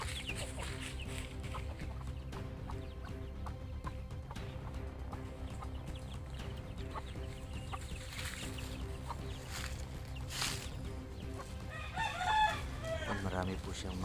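Pet chickens cluck steadily at a farmhouse, with a rooster's crow rising near the end over a constant low background hum.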